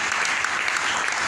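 Steady, dense clapping from a church congregation fills the space, many hands beating together evenly and close by from start to finish.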